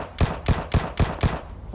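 Gunfire in PUBG on Erangel: six evenly spaced sharp shots, about a quarter second apart, punchy and fairly close, with no talk.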